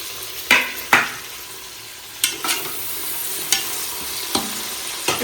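Tomatoes sizzling as they fry in a pan for a paneer and vegetable biryani meal, with a low continuous hiss broken by about eight sharp clinks and scrapes of a spoon stirring against the pan.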